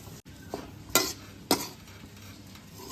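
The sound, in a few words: dried dates and coconut powder roasting in ghee, stirred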